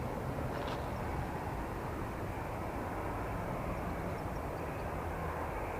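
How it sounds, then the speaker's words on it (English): An EasyJet Airbus A320 airliner departing Manchester Airport for Nice, a faint, steady distant engine rumble and hiss that runs evenly throughout without talking. "An Airbus A320."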